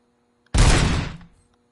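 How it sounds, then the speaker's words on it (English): A 9mm pistol firing in Robocop: Rogue City, one sharp loud blast bursting in suddenly and tailing off over about half a second, with no voices. "Pistol,"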